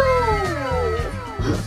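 A cat gives a drawn-out, falling yowl that turns into a low, rough growl. It is close and loud, with a few sharper bursts near the end.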